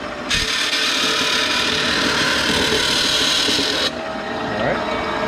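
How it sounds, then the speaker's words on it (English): A bandsaw cuts through a part for a second mini radiator install on a Honda CRX, giving a steady, loud broadband whine and rasp for about three and a half seconds, then a quieter hum as the blade runs on. "Let's go to the bandsaw now."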